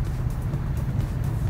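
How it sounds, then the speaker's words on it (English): A soap box derby car rolls down a race track at a rally race in Henderson, Nevada, giving a low, steady rumble of wheels on pavement with faint wind noise and no voices. "Okay, car's coming down the track."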